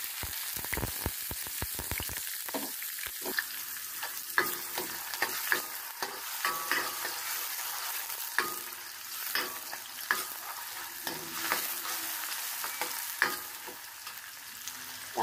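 Beef frying in a little cooking oil in a pan for curry, a steady loud sizzle broken by rapid scraping stirs early on, then continuous crackling with intermittent utensil clatter and no voices.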